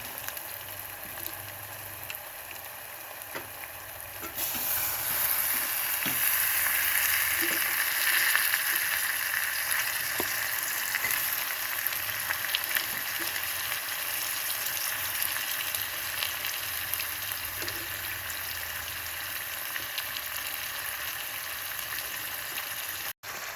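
Washed mutton added to a pan with ginger frying, quiet at first, then a strong steady sizzle that carries on with faint stirring clicks and holds until the end.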